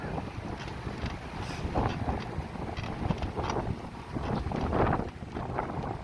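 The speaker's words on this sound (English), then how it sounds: "And it's windy here at ground level." Steady wind buffets the microphone at ground level near Fort Myers Beach, a constant rumbling rush with gusts rising and falling throughout.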